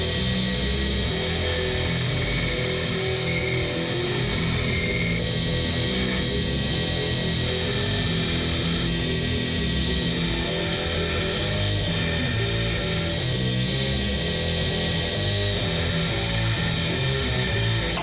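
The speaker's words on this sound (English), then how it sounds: "Onto the grinder. Let's start these out." A grinder works stainless steel knife bolsters, a loud continuous abrasive whine and roar that holds steady throughout with slight shifts as the metal is pressed in, no talking.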